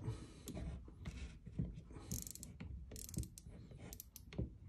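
Baitcaster fishing reel clicking and ratcheting while braided line is spooled on and pulls tight, a close, continuous mechanical rattling with bursts of faster clicks, no talk.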